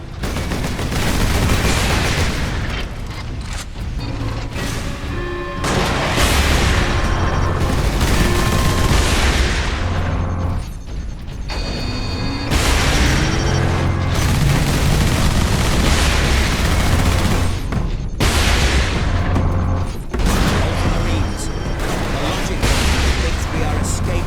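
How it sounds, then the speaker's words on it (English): Sentry gun turrets open fire in the Warhammer 40K Space Marine game, loud rapid bursts of automatic gunfire and booming blasts that come in waves with short gaps, while voices speak over the din. "Set to eliminate anything with the misfortune to move within their range. Sentry guns ahead."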